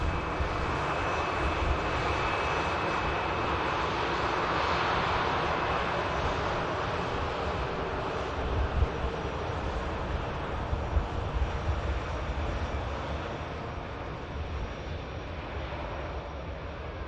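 A jet airliner arriving at Manchester Airport after a flight from Venice gives a continuous loud engine roar across the whole stretch, broad and rumbling, slowly easing near the end, with no voices.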